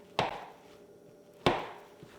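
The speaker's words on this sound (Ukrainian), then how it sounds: "Спочатку я на бруски наріжу його." A knife cuts food into bars on a board in two crisp, separate chops spaced about a second apart, each a close, sharp thud that fades quickly, with only faint room tone between them.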